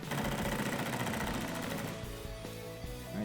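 An impact gun on its lowest setting drives an 8mm socket on a bolt of a 2018-2019 Ford Raptor, a loud buzzing rattle that eases into a few separate sharp knocks near the end.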